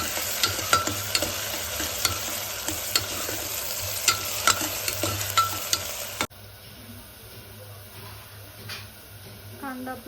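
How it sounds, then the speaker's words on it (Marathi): Onion browning with bay leaves and garam masala in a pan for masoor pulav, a steady close sizzle with repeated spatula scrapes and taps, the frying hiss dropping to a quieter simmer partway through. "तेजपत्ता टाकल्याच्या नंतर आपण कांदा मस्त थोडासा ब्राऊन करून घेऊया."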